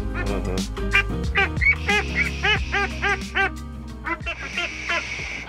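Baby ducks quack and peep nearby in a rapid, overlapping chorus of short calls that runs throughout the scene.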